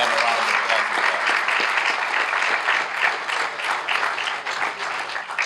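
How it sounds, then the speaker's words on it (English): Steady, dense applause from a crowd honoring two city councilors at a courthouse groundbreaking ceremony, continuous clapping filling the whole stretch without talk. "we please give them a round of applause as well"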